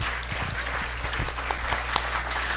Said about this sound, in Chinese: let's applaud the chefs